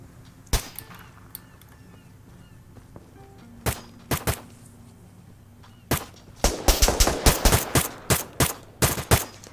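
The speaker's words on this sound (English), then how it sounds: "Just shooting the guys in the island." Gunfire from shooting enemies in the military game Arma 3, single sharp shots scattered early, then a dense run of rapid loud reports in quick succession, with no talk.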